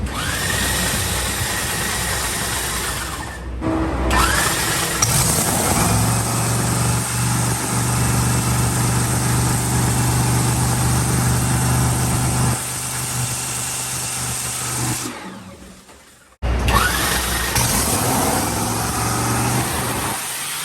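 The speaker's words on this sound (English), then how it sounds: "So they got the new engine in, and they're gonna start it up." A top fuel dragster engine roars steadily at close range, with a deep rumbling drone, cutting out briefly twice before picking back up.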